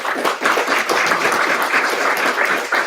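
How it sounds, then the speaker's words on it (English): A round of applause from an audience at a tech talk event on generative AI, steady dense clapping close by with no talk over it. "I think the speakers deserve a round of applause as well."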